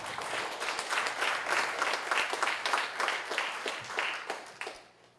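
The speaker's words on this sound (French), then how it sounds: "Une bonne main d'applaudissement." Applause from an audience at a firefighters' recognition evening, steady clapping for about five seconds before thinning out and stopping.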